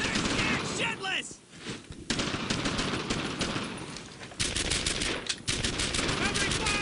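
Dense covering gunfire rattles almost nonstop in the World War II shooter Brothers In Arms: Earned In Blood, loud rapid bursts of rifle and machine-gun fire with a short lull, while soldiers shout over it.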